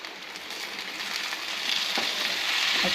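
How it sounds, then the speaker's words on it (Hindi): Chopped tomatoes hitting browned onions in a pan for a chana dal curry, giving a steady broadband sizzle that grows louder toward the end, close and continuous with no voices. "प्याज हमारे ब्राउन हो चुके, अब इसमें हम टमाटर डालेंगे।"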